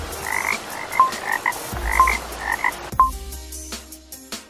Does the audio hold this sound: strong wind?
no